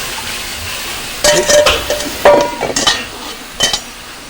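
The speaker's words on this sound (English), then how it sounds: "So you wanna stir fry that up." Food stir-frying in a pan at a Hilo lunch wagon, a soft steady sizzle underneath as a utensil scrapes and clinks against the metal in several short bursts.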